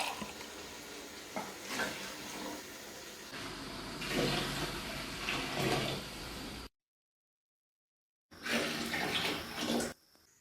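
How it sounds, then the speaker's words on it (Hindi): Beef stock (yakhni), about one and a half glasses, is poured into a pot of degi beef biryani, making a steady splashing, gushing pour that breaks off briefly and then resumes; no one speaks. "अब हमने जो यखनी निकाली थी वो ऐड करेंगे।"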